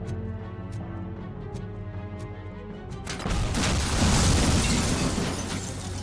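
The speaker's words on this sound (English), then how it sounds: "why are there so many things blowing up?" Explosions erupt in the video game RoboCop: Rogue City, a loud, close burst after about three seconds that rolls into sustained rumbling debris over a faint steady tone.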